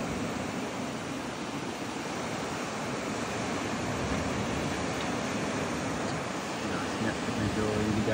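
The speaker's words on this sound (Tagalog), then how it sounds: "naka-yellow warning daw ngayon dahil sa lakas ng alon" Strong ocean surf rolls in at a beach in Morong, Bataan, under a yellow warning for high waves, making a dense, continuous roar with wind buffeting the microphone throughout.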